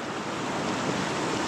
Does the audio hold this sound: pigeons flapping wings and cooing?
no